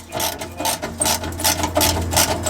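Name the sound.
ratchet undoing exhaust rear quarter bolts on Vauxhall Corsa VXR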